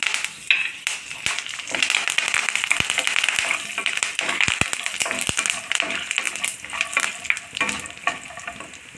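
Curry leaves crackle and spit in hot oil with chana dal, a loud, steady sizzle with dense popping and frying noise throughout and no talking.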